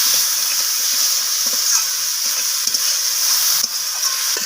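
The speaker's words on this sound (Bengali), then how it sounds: "তো লবণ আর আদা বাটাটাকে আমি আবারও সয়াবিনের সাথে কষিয়ে নিচ্ছি নাড়াচাড়া করে।" Soybeans fry and are stirred in a pan with salt and ginger paste: a steady, close, loud sizzle with soft scraping and clicking from the stirring throughout.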